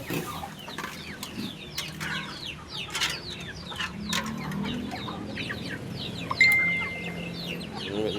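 Chickens at a backyard feeding spot clucking and chirping in a busy overlapping chorus, several birds near and farther off, with short sharper calls scattered throughout.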